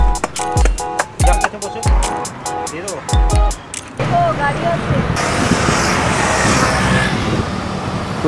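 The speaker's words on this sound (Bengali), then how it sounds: "প্রচুর বাইকার যাচ্ছে এখান থেকে।" Motorbikes and cars passing on a highway during a road trip from Kolkata to Jhargram, with steady road roar and rumbling pass-bys heard from inside a moving vehicle, mixed with some close knocking at first.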